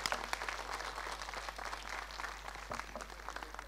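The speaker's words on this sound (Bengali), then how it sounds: "সকলের জন্য আরও একবার একটা জোরে করতালি আশা করছি" Audience applause at a stage performance, a dense steady patter of many hands clapping, moderately distant and fairly faint, with no talking.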